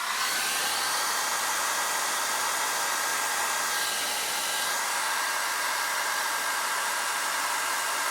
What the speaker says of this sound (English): Hairdryer, warm setting.